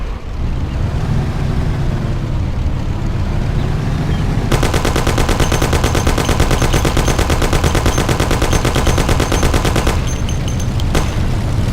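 A Thompson submachine gun in the video game Mafia rattles off long, rapid automatic bursts, loud and close over a rumbling vehicle engine, with a short pause before firing resumes.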